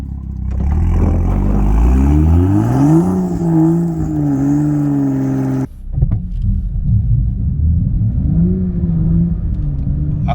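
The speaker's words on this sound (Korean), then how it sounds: "아까랑 다르게 RPM이 좀 올라가죠. RPM 올라가는 게 유지가 돼요." A car stuck in snow with traction control switched off revs up hard, its engine note climbing and holding high, then after a brief break revving again steadily as the tyres work through the snow; loud and close, no talk.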